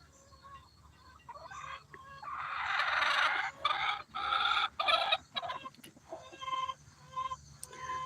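Chickens on a backyard flock cluck loudly and steadily, with a burst of crowing-like squawks and repeated calls close by, no talk over them.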